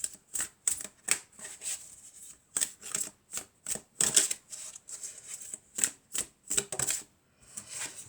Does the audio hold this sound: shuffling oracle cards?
yes